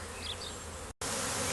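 A swarm of honey bees released in front of a hive, buzzing loudly and steadily up close as a dense, continuous hum with a brief dropout near the middle.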